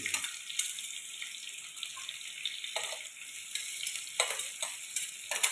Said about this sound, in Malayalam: വെളിച്ചെണ്ണ ചൂടായിട്ടുണ്ട് നമുക്ക് ഇഞ്ചി വെളുത്തുള്ളി ഇട്ട് കൊടുക്കാം ചതച്ചത്